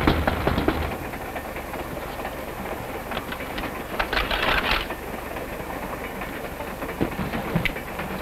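Train rolling in a 1942 comedy short, a steady rumbling clatter of wheels and carriage with occasional rattling clicks and knocks, continuous and fairly close, with no talking.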